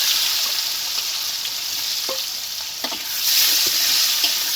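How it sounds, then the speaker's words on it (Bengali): Chopped onions fry in mustard oil in a kadai with a bay leaf and whole cumin, a steady close hiss of sizzling broken by a few soft stirring scrapes, louder toward the end. "পেঁয়াজটাকে এখন লাল লাল করে ভেজে নেব"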